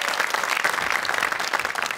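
A studio audience at a comedy stage show applauds in a full, even burst of clapping that stays strong and continuous from start to finish.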